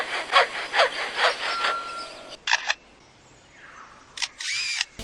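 A lyrebird mimics a camera shutter and a saw: a rapid run of rasping, clicking bursts like a motor-drive shutter, then a pause and a few separate sharp shutter-like clacks, loud and close with no talk.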